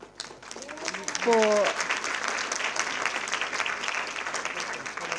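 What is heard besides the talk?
audience applause at panel discussion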